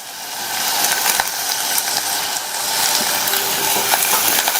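Cumin seeds, chopped onion, crushed garlic and curry leaves frying in hot oil give a steady, close sizzle that crackles evenly throughout, with no voices.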